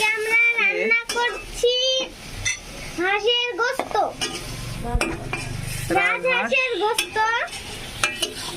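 Spices fry in a pot for village-style desi chicken bhuna, a sizzle and occasional utensil clinks and stirring scrapes running beneath someone talking almost continuously nearby.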